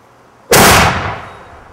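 A small homemade flintlock cannon fires once with a sharp, loud blast that trails off into a lingering rumble.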